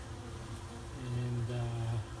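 Honey bees buzzing at a hive where some are stuck in spilled honey, a close, steady droning hum that swells louder midway with layered wingbeat tones, no talking.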